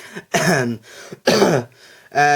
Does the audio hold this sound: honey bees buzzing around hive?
no